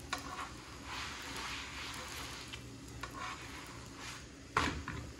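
A paratha fries and sizzles steadily in a pan for a home-cooked daal chawal meal, with constant hiss and crackle and occasional stirring scrapes, plus one sharper clatter near the end.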